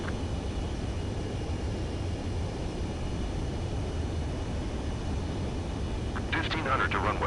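A steady jet engine roar holds constant through a runway landing approach in Ace Combat 7, with a short burst of higher-pitched whine near the end.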